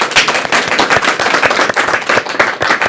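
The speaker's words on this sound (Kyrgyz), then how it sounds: "ушу энебизге бир кол чаап коелучу" An audience claps loudly for an elderly woman, with quick, uneven hand claps close by that keep up throughout.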